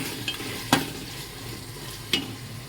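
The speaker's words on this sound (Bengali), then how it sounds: "মশলাটা একটু ভালো করে কষা হবে।" Spice masala for mutton being sautéed in a pan, a steady low sizzle broken by two sharp scraping stirs of the spatula, close and alone with no talk.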